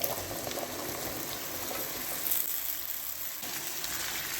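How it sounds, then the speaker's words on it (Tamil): Cut potatoes fry in a pan for a potato and eggplant stir-fry, giving a dense, steady sizzle that stays fairly loud and unbroken throughout. "இந்த மாதிரி சைஸில் வெட்டி வச்ச உருளைக்கிழங்கு சேர்த்துக்கலாம்."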